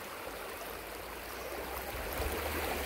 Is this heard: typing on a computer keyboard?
no